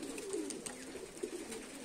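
Giribaz racing pigeons back at the loft after a 14 km toss give a few soft, low coos and faint fluttery sounds, quiet and close, with no talking.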